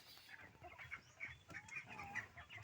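Layer hens cluck softly inside a poultry house. Scattered calls and chatter come from several birds at a moderate distance over quiet room noise, with no talk.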